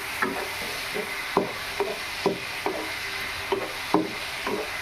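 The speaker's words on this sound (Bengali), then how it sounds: "একটু সামান্য জল দিয়ে ভালোভাবে এটা কষিয়ে নেব।" A spoon scrapes and stirs spices with turmeric powder, salt and a splash of water as they sauté in a pan for a Bengali banana-stem curry. There are about ten distinct scraping strokes at a steady rhythm over a faint sizzle, with no talk.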